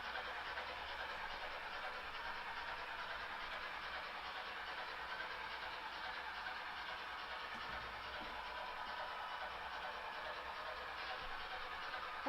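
Model trains on a layout, including a Kato unit, rolling steadily and faintly with continuous low rumble and soft track clatter, no pauses.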